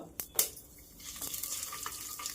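Fenugreek seeds roast in a spoon of oil in a pan for puliyogare spice powder, with a soft steady sizzle and a couple of sharp clinks of a spoon near the start.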